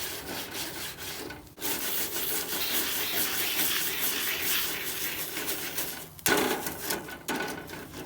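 A stainless steel chainmail grill brush scrubs back and forth across grill grates, giving a close, gritty rasping in steady strokes. The scrubbing breaks off with short pauses near the second and sixth seconds.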